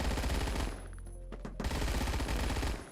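An SMG with a fast fire rate in the Phantom Forces video game fires loud, close, rapid automatic bursts, pauses briefly in the middle, then resumes sustained fire until the end.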